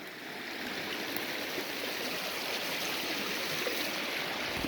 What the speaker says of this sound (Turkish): Doğal kaynak suyu böyle.